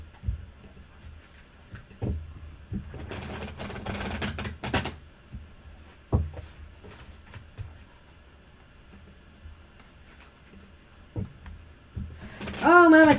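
Tarot cards are shuffled in a rustling, flicking burst that lasts a couple of seconds, with scattered soft taps and handling noises before and after, while people talk nearby.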